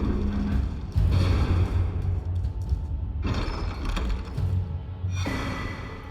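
A heavy door in Elden Ring grinds open with mechanical ratcheting and creaking in several long surges, broken by low thuds, over about six seconds with no speech.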